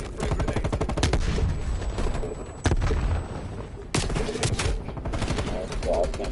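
Rapid bursts of automatic gunfire from a first-person shooter video game, dense repeated shots in close succession with short gaps, loud and near, with faint game sounds behind.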